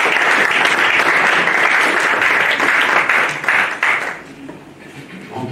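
A church New Year's greetings gathering where the audience applauds to acclaim the Lord, a loud sustained round of clapping that fades toward the end.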